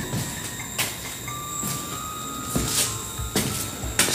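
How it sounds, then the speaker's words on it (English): An electronic sensor beeps in short, sharp bursts, roughly once a second, over a constant high hum. "So that thing beeps whenever you come by it."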